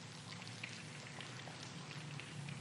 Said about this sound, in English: Even as autumn spread its colorful canopy, the rains came.